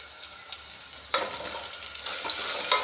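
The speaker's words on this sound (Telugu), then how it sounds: "పసుపు అల్లం వేసిన తర్వాత ఇలా కలపండి." Turmeric and ginger fry in a pan while being stirred, giving a steady close sizzle with soft scraping strokes that brighten and intensify partway through, with no voices.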